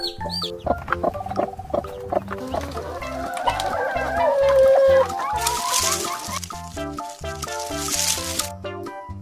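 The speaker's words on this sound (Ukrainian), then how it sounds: "Маму курку називають квочкою, тому що вона говорить кво-кво." A domestic hen clucks in a run of short, repeated calls at close range, rising into a busier stretch midway, with light music playing underneath.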